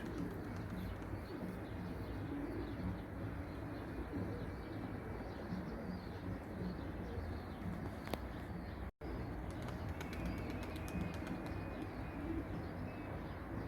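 Soft, low cooing of a turtle dove repeating in the background over a steady outdoor hum, faint and somewhat distant.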